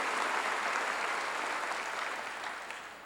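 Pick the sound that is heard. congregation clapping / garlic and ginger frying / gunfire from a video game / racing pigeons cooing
congregation clapping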